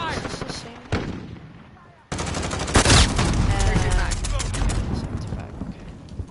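Gunfire in a video game battle over capturing and defending a headquarters: sharp shots and a dense, loud burst of rapid automatic fire, with game voice callouts mixed in.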